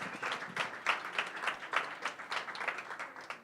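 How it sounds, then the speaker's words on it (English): Audience applause at a startup pitch event at Atlanta Tech Village, a steady patter of many hands clapping with slight rhythmic surges, moderately loud and close, no voices. "Round of applause"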